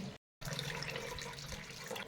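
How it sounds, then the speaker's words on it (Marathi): Water pours steadily over chana dal in a vessel with a broad rushing splash, close and continuous after a brief silent gap. "चणा डाळ बुडेल एवढं पाणी घालायचं"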